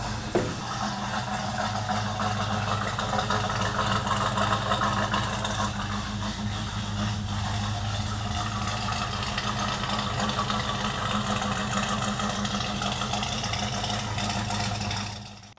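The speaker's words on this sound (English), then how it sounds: "the truck runs really well, sounds really good" A 1968 GMC truck with a 350 small-block V8 swapped in idles steadily and close by, a continuous low rumbling hum that runs throughout with no voices.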